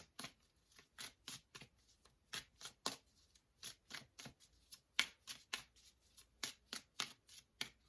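Tarot cards are shuffled close up in a quick, steady run of crisp riffling bursts, about two per second, with no voices.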